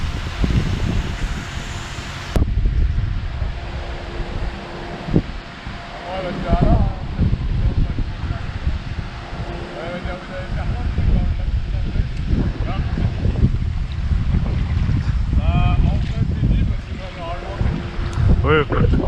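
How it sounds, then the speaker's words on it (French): A steady tailwind buffets the microphone outdoors near water, a continuous rumbling roar with gusty swells throughout, while people talk faintly underneath. "Vu que le vent est dans le dos."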